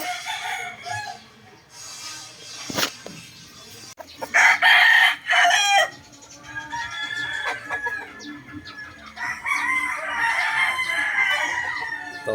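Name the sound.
broodcock rooster crowing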